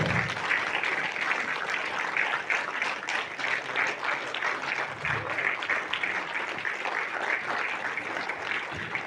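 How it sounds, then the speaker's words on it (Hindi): Audience applause at a joint oath-taking ceremony and interaction programme of a Nyishi youth association, a steady dense wash of clapping lasting several seconds at moderate level, with possible voices faintly underneath. "प्लीज जोरदार तालियां हो जाए।"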